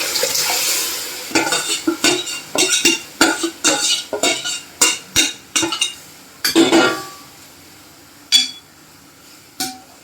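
Spoon stirring a freshly added mixture in a pan for Maharashtrian alu fadfade (colocasia leaf curry), with repeated scraping clinks and a soft sizzle in a steady rhythm, close and clear, no talking.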